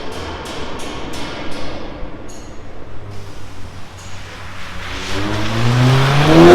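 A VW Golf 8 1.5 eTSI with a remote-controlled exhaust revs close by, the engine note climbing steadily and growing louder toward the end.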